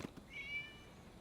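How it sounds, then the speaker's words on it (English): A single short meow from a cat in the video game Genshin Impact, faint and brief against a quiet ambient game background. "It was just a cat."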